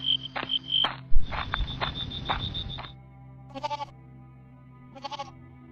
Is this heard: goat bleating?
yes